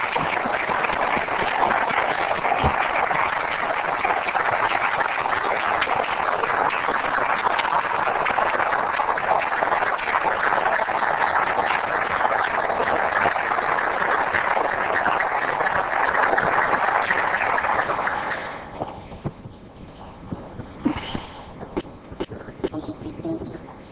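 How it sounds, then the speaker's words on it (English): Applause from the audience at an Oceanside city council meeting: a long, dense run of clapping that holds steady for most of the clip, then gives way to scattered claps and a voice at the end. "Now, I'd really like for us to all clap."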